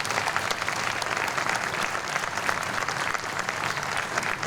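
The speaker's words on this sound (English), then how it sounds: "So could we please give them one more round of applause?" An audience applauds a municipal band at a summer concert, producing dense, sustained clapping that stays fairly even from start to finish with no talk over it.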